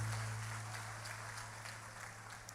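Church congregation clapping steadily through a Portuguese-language service, a dense, even patter of hands at moderate volume over a low electrical hum, with no voices standing out.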